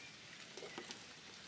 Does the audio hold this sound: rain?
yes